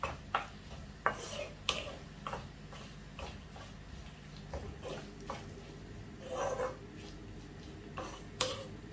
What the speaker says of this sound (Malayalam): എല്ലാം കൂടി ഇളക്കി യോജിപ്പിച്ച് കൊടുക്കുകയാണ്